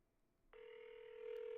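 A landline telephone rings out on an outgoing call: a steady electronic ringback tone starts after a brief quiet moment and holds on, clear and unbroken.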